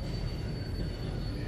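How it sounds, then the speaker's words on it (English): Train rolling past in Brooklyn, a steady rumble of railcars and wheels with a faint high rail whine, continuous and fairly close throughout with no talking. "See the train coming down there."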